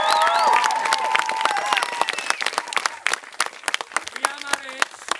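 Audience applause and cheering at a live stage performance, loud at first with voices and whistles mixed in, then thinning into scattered claps as it fades.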